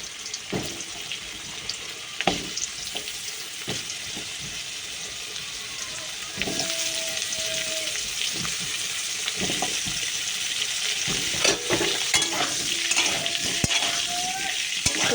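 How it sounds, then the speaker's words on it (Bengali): Potatoes frying in oil in a wok, with a steady broadband sizzle that grows louder partway through, broken by scattered clinks and scrapes of a utensil against the pan. "আমি আলুটা ভেজে নেবো কড়াইতে আবার তেল দিয়ে দিয়েছি"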